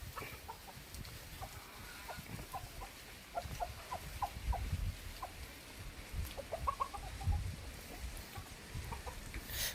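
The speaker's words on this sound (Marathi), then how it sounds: "कोंबडी पण भरपूर आहेत" Several village chickens cluck in short, scattered bursts over a steady outdoor background murmur, moderately close and fairly quiet.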